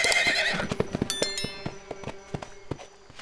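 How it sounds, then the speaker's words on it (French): A horse whinnies loudly at the start, then hooves clip-clop in an uneven galloping rhythm, fairly close with light background noise. "Elle n'arrête pas de galoper et de hennir."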